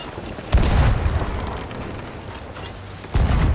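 Cannon fire from an enemy galleon in a pirate ship video game: two loud, close booms about 2.6 seconds apart, each followed by a deep rumbling decay.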